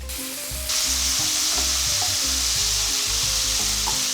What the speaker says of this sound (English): Get this sausage nice and rendered in here.